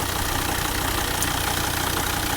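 Volvo D5 diesel engine idling after a timing belt replacement, a steady, dense mechanical hum with an even rhythmic patter, close and constant with no voices.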